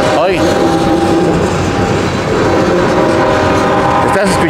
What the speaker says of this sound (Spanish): es un tren, ya no es de pasajeros, ahora es de carga